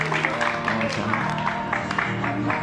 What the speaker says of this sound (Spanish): ¡Aplauda, chicos!